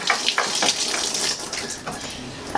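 A shower tap runs a light, steady stream of water during a shower surround installation, producing a continuous splashing hiss with small fluctuations.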